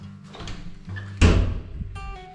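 A hidden door in a bathroom swings open with a sudden loud scrape and thud, preceded by faint rustling and followed by a quieter ringing tone.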